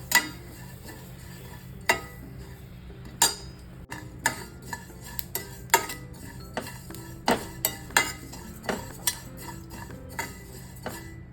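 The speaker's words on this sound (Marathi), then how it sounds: "गॅस कढई चांगली तापली ना पॅन तर जास्त वेळ नाही लागत बघा भाजायला मस्त भाजलं जातं" Fennel seeds roast in a hot kadhai for homemade mukhwas, with a spoon scraping and clinking against the metal in uneven, fairly loud strokes over a faint background and no voices.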